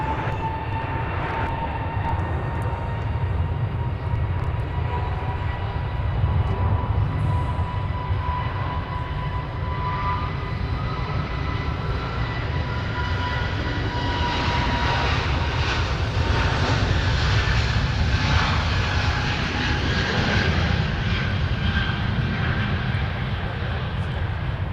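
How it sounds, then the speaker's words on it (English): Frontier Airlines jet taking off from the runway at Minneapolis–Saint Paul airport, a loud sustained engine roar with rising whine and broadband rumble, steady and close throughout. "Frontier just lifted off."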